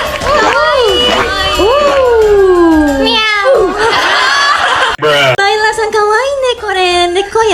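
A young woman imitates a cat with a run of drawn-out, sliding meows, broken up by chuckles and snickering, loud and close.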